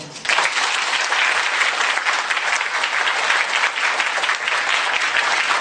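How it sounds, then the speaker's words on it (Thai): A seated audience breaks into loud, sustained applause that starts abruptly and holds as a full, even roar of many hands clapping, with no one talking. "ขอเสียงปรบมือดังๆ"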